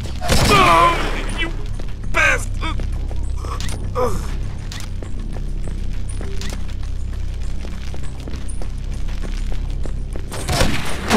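Gunfire from the video game True Crime: New York City cracks out in a few sharp bursts amid creaking mechanical noises, with voices talking in between.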